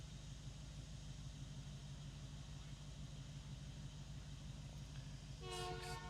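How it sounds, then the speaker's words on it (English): A train rumbles past as a steady, loud, continuous roar heard from a car driving along the Brisbane bayside, with a brief horn-like tonal blast near the end. "Oh, there goes the train."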